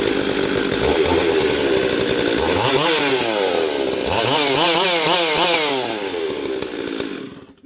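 A gas chainsaw fitted with a wood-ported Stihl 460 cylinder and gasket delete screams loud and close, revving up and down in repeated surging cycles before easing off and trailing away at the end.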